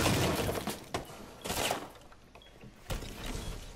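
Smashing through a wall in a video game, a few heavy crashing impacts with debris, loud and close, separated by short pauses.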